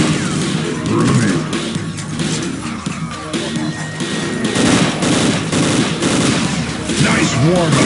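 Loud, rapid automatic gunfire and heavy impacts crack through a capture-the-flag match in Unreal Tournament 2004 with the Ballistic Weapons mod, dense and continuous with crashing hits layered in.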